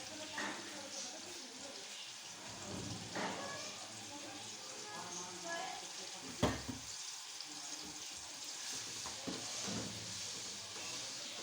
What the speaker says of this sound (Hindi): अब जो है हम इसमें 1 टेबल स्पून अदरक लहसुन का पेस्ट इस्तेमाल कर रहे हैं, और अब जो है हम इसको इसमें फ्राई कर लेंगे।